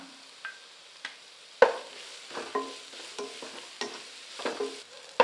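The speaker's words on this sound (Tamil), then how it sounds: "இதை சேர்த்து நல்லா பச்சைவாடை போகிற அளவுக்கு வதக்கி விட்டுக்கலாம்" Grated carrots sautéing in a pan, with a soft sizzle under repeated scrapes and taps of a spatula against metal. The strokes grow busier partway through, and no one speaks.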